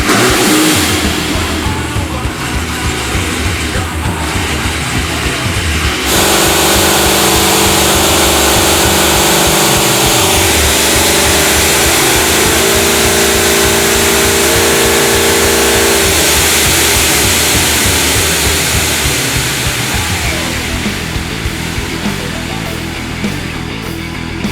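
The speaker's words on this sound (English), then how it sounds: "The Challenger's on the dyno behind me." A Dodge Challenger roars through a dyno pull, its engine revving hard and loud, climbing and holding at high speed for over twenty seconds before easing slightly near the end.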